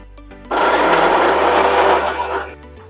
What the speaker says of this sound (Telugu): క్యాప్సికమ్ పచ్చడి అయితే మిక్సీకి పట్టుకున్నాను